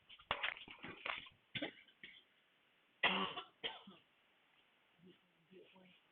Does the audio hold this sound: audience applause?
no